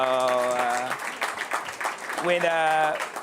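Applause for panelists at a New York conference session, a crowd clapping in a room while loud voices whoop and call out over it in drawn-out tones, the cheering rising again near the end.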